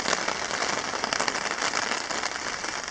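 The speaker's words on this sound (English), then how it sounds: "the real rain just started." Steady rain falls at a wilderness campsite in the Boundary Waters, a dense, even hiss of drops pattering on surfaces close by, with no voices.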